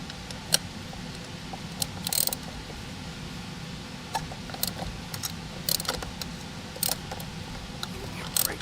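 A dry spark plug being tightened into the cylinder head of a 2017-2021 Ford F-150 3.5L EcoBoost, giving a series of short sharp creaking, ratchet-like squeaks at irregular intervals over a low mechanical background, close and fairly quiet.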